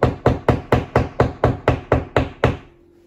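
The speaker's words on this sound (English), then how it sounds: "I'm taking this little plastic piece right here and I'm going to hammer it into that hole." A hammer drives a small plastic wall anchor into a drilled hole with eleven sharp, evenly spaced taps, close and loud, before the blows stop and leave near silence.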